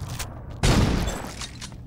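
Gunfire in the Saints Row 2 video game: a single heavy burst of shots erupts partway through, loud and close, then tails off into softer rumbling over a low background.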